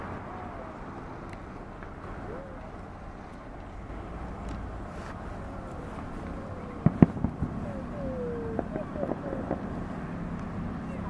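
Distant fireworks pop and crackle in a scattered cluster over steady outdoor background noise, with people talking faintly throughout.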